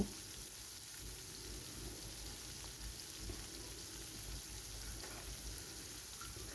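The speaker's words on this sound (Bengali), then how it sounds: "এবার করলাগুলো আমি ওই তেলের মধ্যে দিয়ে বেশ ভালো করে লাল লাল করে ভেজে নেব" Bitter gourd frying in hot oil, a faint, even crackle and sizzle, continuous and quiet throughout with no voices.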